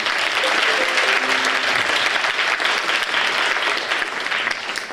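Sustained applause from a school general assembly audience honoring award-winning students, a dense steady wash of many hands clapping for the full stretch with faint voices mixed in.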